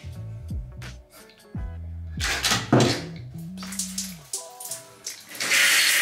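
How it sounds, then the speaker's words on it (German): A shower turned to fully cold water in a home bathroom, starting with squeaky pipe and tap tones and then a steady hiss of spray that grows louder and fuller toward the end. "Das Wasser mal ganz kalt."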